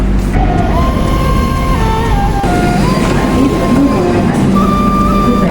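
A Pune metro train hums loudly and steadily, with a whine that steps up and down in pitch, and faint talk underneath.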